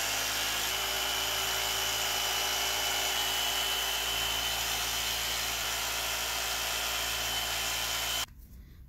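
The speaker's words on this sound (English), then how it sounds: "think I'm gonna try out my new drill press" A drill press fitted with a metal-cutting bit bores into plastic, giving a loud, steady high-pitched whine with a grinding edge that runs unbroken for about eight seconds, then cuts off abruptly.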